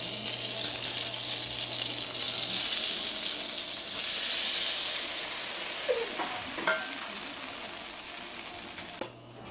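Butter sizzling and frying steadily in a pan while making Dubai cookies, a continuous hiss with faint stirring scrapes partway through, close and fairly even throughout.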